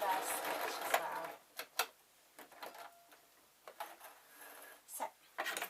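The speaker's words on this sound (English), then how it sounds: "I'm going to reverse stitch as well." A sewing machine reverse stitches felt jester slippers in short, close mechanical runs and ticking bursts separated by pauses, with a voice talking in between.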